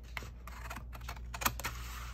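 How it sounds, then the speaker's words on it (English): Scissors cutting paper for a junk journal, heard as a series of crisp, close snips and rustles at a quiet level, irregularly spaced with one sharper cut near the middle. "And now I'm gonna use scissors"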